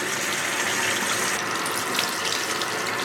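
Tap water runs steadily into a sink for rinsing permed hair, a constant close gush of flowing water that continues without pause and without speech.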